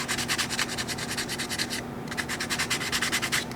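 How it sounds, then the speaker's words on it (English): Rapid rhythmic strokes of 180 grit sandpaper across a water-damaged vintage knife blade, close and steady, with a brief pause midway. "but we have to sand right here"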